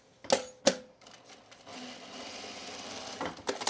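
A sewing machine stitches a scrap of fabric at a short stitch length, beginning with two sharp mechanical clacks before running in a brief, quiet, buzzing burst that stops and then starts again.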